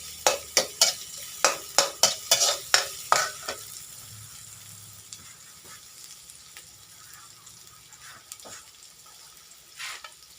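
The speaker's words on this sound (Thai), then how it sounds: "ผัดกะเพราพริกเขียวหนวดหมึก" Squid with holy basil and green chili stir-fried in a pan, a run of sharp, rhythmic spatula scrapes and clacks for a few seconds over a low sizzle, then only quieter sizzling with occasional faint knocks.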